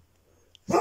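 A single loud bark from a pet dog bursts out suddenly at close range after near silence, cut off at the end of the moment.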